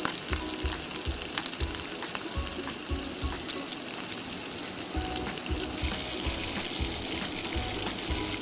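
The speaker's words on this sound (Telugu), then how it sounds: "బాగా ఫ్రై చేసేంత వరకు అప్పుడప్పుడు అడుగంటుకోకుండా కలపాలి" Chopped ivy gourd (dondakaya) frying in a pan and stirred now and then, a constant sizzle with repeated low scraping strokes of the stirring spoon in an even rhythm.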